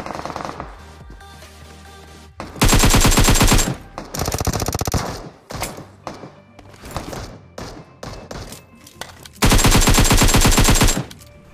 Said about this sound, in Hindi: अभी फिलहाल पीछे की तरफ से फायरिंग आता